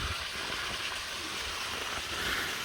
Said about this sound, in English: Nice little water cascade